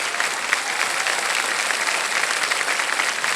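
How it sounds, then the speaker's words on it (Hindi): The studio audience of the quiz show Kaun Banega Crorepati applauds with steady, dense clapping that is even and sustained throughout, with no voices above it. "ताली बजाएं इनके लिए।"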